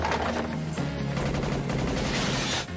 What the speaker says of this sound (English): rockets and machine cannon fire is going, so everything here is just being blown to smithereens